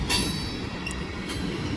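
A CSX freight train passes on the Grand Rapids Sub, with a heavy rumble of rolling cars and a couple of brief, high wheel squeals close by.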